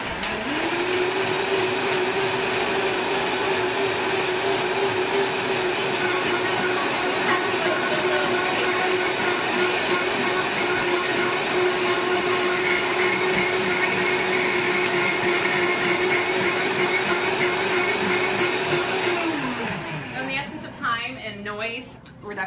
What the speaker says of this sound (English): And onto the blender.